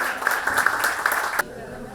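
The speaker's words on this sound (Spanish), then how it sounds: "Quiero que le den un fuerte aplauso para que pase adelante" Applause from an audience at a cultural center gathering, a steady patter of clapping with a prominent tonal hum running beneath it, ending abruptly after about a second and a half and leaving quieter room noise.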